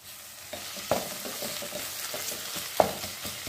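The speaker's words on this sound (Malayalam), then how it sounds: "ഇനി നമുക്കിത് ഇഞ്ചി വെളുത്തുള്ളി പേസ്റ്റ് ഇട്ട് കൊടുക്കാം കേട്ടോ." Onion sautéing with ginger garlic paste for a chicken curry gives a soft, continuous sizzle, with repeated stirring scrapes and two sharper knocks of a spoon against the pan, close up and without talk.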